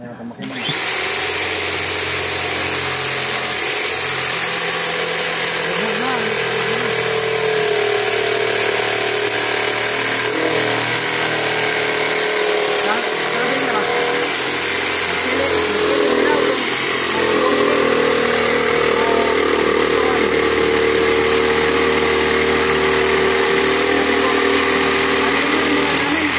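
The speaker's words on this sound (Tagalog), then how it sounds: "Yan, may makina." A small motor engine runs steadily and loudly throughout, a constant mechanical drone with a rattling, drill-like edge, while people talk over it.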